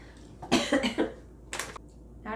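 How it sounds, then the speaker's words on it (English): A person coughs a few times, a cluster of harsh bursts followed by another short cough, close and fairly loud in a quiet indoor room. "I'm sorry I coughed on you"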